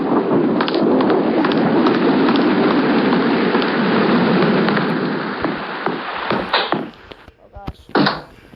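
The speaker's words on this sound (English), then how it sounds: "I did hear some thunder." A thunderstorm brings heavy, steady rain drumming on surfaces close by, a roar that eases toward the end where a few sharper sounds break through the thinner rainfall.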